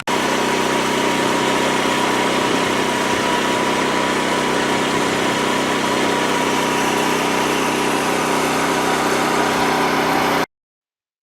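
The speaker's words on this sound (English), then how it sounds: "The loud noise you heard in the background in the previous clip is a pretty big generator that Brian uses to charge the" A large generator runs steadily and loudly on a farm, charging drone batteries, as a constant droning hum that continues unbroken and then cuts off abruptly at the end.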